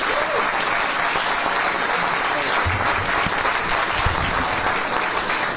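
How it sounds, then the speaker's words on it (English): A room full of people at an upstate sheriff's forum applauds the Lieutenant Governor, dense steady clapping filling the space at full strength from start to finish. "y'all give her a round of applause"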